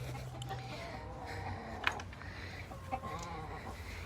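Backyard chickens at a coop clucking repeatedly in short, irregular bursts, close and moderately loud, with light rain and outdoor ambience behind.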